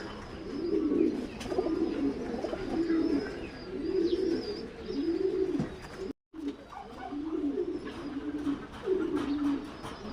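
Korean jaafar pigeons, a male and female pair kept for sale in Qatif, coo steadily in repeated low rolling phrases, close and clear, with faint higher bird chirps in the background and no talking.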